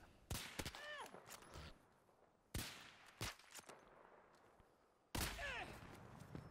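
Gunfire in the video game Battlefield 2042 comes in several sharp, separated bursts and single shots, loud against a quiet background.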